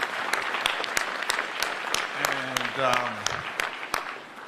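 A crowd at a live program claps in a sparse, uneven pattern, with sharp individual claps ringing out at intervals while a person speaks and laughter rises briefly in the middle.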